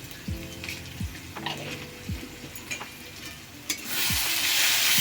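Marinated chicken and spices for dhania chicken being stirred in a pan, with a steady close sizzle and several scraping spatula strokes, the frying noise swelling louder near the end; no talking.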